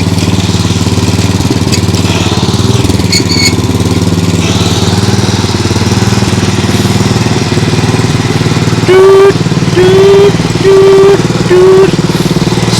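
A Nibbi G619 walk-behind tractor's small engine runs continuously up close in a fast gear, a loud steady chugging drone, with brief speech toward the end.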